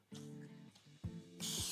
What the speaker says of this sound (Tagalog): nilalagyan ko ng pump spray ng konti yung aking pangkat para hindi masyadong manikit